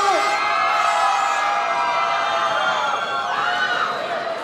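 Large crowd at an event for two thousand people shouting and cheering, a dense loud roar of many voices with whoops, sustained throughout and slightly fading near the end.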